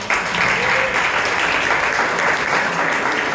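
Members of a Bangalore Toastmasters club meeting give a big round of applause, a steady wash of many hands clapping together at even loudness throughout.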